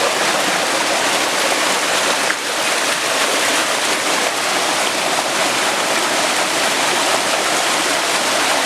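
Water pours down from above in a waterfall at Tamarana, Paraná, a loud unbroken rushing roar that stays close and even, with no one speaking.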